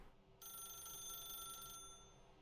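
Telephone ringing in The Stanley Parable: Ultra Deluxe, a single sustained electronic ring tone that starts suddenly and stops after about a second and a half, faint against a quiet background with no talking.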